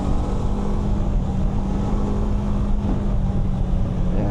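BMW F450GS motorcycle engine under acceleration on a road ride, a steady droning engine note under wind rush, heard from the rider's position.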